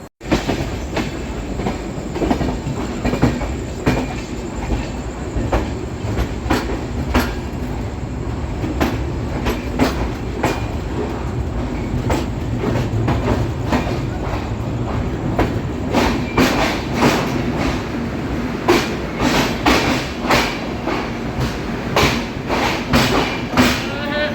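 An Indian express train from Patliputra runs toward Gorakhpur Junction, heard from on board: a continuous rumble with rhythmic clickety-clack wheel thumps over rail joints, loud and close throughout.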